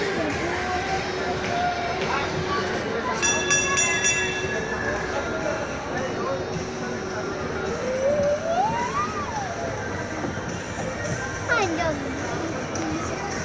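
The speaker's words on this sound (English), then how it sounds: "Riding a train." Ride-on train rolling through an indoor shopping mall, SM Clark in Pampanga, a steady rumble with occasional squeals and a brief beep-like tone, under crowd chatter and nearby voices throughout.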